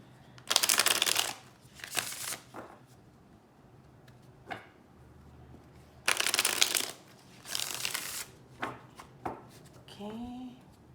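Bursts of riffling tarot card shuffles, several loud rushes separated by quieter taps and handling, close up; a brief voice sound near the end.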